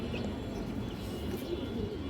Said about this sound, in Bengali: এটা হচ্ছে রোডল্যান্ডের একটা কবুতর